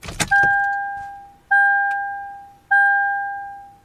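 Turning the ignition key in a Lexus GX brings three evenly spaced two-tone electronic chimes, each a clean ding that rings out and decays over about a second, following a short rattle of the key at the start.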